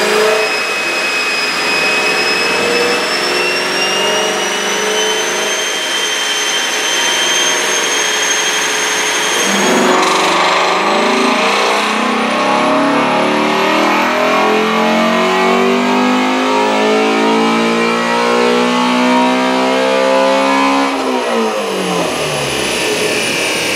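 A 2019 Ford Mustang GT350 engine does a full power pull on a chassis dyno. The loud, close mid-pitched roar climbs steadily, drops back, then builds again through the high revs with a rising whine, and no one speaks over it.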